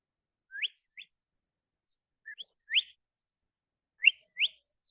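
A voice whistles short rising chirps in three quick pairs, imitating a bird, clear and close with silence between.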